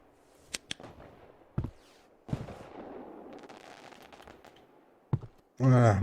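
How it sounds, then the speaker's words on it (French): Fireworks on New Year's Eve pop and crack in a few sharp bursts with a rumbling stretch between, heard from indoors at moderate distance, followed by a brief loud clatter at the end. "Oh, des feux d'artifice."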